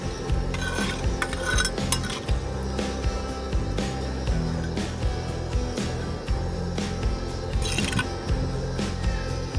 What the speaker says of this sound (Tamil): இப்போ மட்டன் வேகிறதுக்காக நம்ம 1 கப் வாட்டர் ஆட் பண்ணிக்கலாம். நல்லா மிக்ஸ் பண்ணிக்கலாம்.